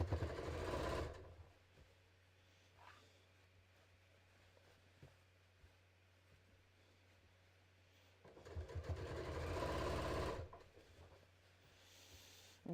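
A sewing machine stitches a shoulder seam on a bodice-draft top in two loud, fast whirring bursts at the start and near the end, separated by a long stretch of quiet low hum and small handling clicks.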